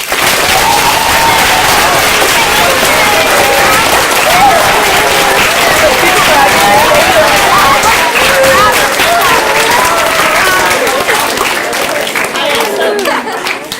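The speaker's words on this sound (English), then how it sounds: "Can we give those of our Character in Action Award recipients a round of applause?" Sustained, loud applause from a school audience of parents and students honoring grade 6–8 Character in Action Award recipients, steady dense clapping with crowd murmur throughout, tapering slightly at the end.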